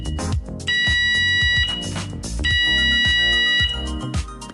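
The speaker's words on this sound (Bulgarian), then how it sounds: "Ако чуете тази противопожарна аларма," A fire alarm sounds in two long, shrill electronic tone bursts, loud and piercing, over a busy pulsing background sound, as part of a Bulgarian-language safety announcement.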